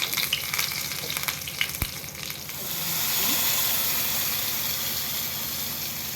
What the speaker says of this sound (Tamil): ஆயில் ஆட் பண்ணி இந்த மாதிரி பபுள்ஸ் வரணும் கடுகு ஆட் பண்ணிக்கலாம்